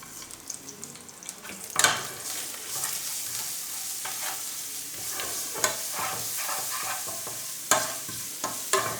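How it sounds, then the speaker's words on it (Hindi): Oil sizzles and crackles steadily as white sesame seeds and spices are tempered for radish chutney, with a few sharp pops and clinks of a utensil against the pan; no voices. "हम चटनी को तड़का इसलिए लगा रहे हैं"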